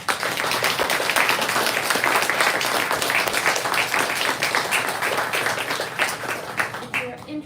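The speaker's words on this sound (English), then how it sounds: "let's give them one more round of applause" Audience applause for two poets at a poetry reading, full and lively with many hands clapping close by, holding strong before thinning out at the end.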